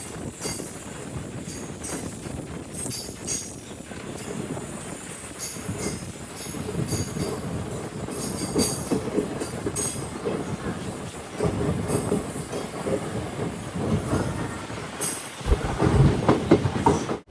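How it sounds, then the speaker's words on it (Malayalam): A train rolls into Karaikal railway station after the 11 km run from Nagore, wheels clattering rhythmically on the rails with occasional squeals, moderately loud and steady throughout. "നാഗൂറിൽ നിന്നും 11 കിലോമീറ്റർ യാത്ര ചെയ്ത് ട്രെയിൻ ഇതാ കാരയ്ക്കൽ റെയിൽവേ സ്റ്റേഷനിലേക്ക് എത്തുകയാണ്"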